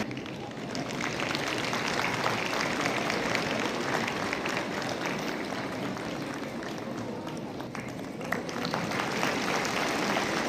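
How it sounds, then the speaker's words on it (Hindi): Loud, sustained applause from a large audience welcoming the education minister at the launch of the New Delhi World Book Fair, a dense continuous wash of clapping lasting the whole stretch. "एक बार जोरदार तालियों के साथ माननीय शिक्षा मंत्री जी का"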